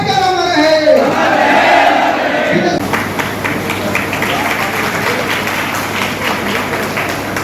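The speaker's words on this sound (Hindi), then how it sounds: "एक बार जोरदार ताली बोलिए।" A large crowd at a political cluster convention in Manpur, Gaya, Bihar applauds and cheers loudly, a dense sustained wash of clapping and voices that swells early and continues steadily throughout.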